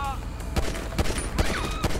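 Rapid gunfire in the PC version of GTA 5 during a motorcycle chase: a quick string of sharp, loud shots over a dense, busy game sound bed.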